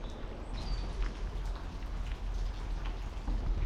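Steady rain patters on surfaces nearby at Cock Marsh by the River Thames, a dense hiss with scattered individual drops and a faint bird call in the distance.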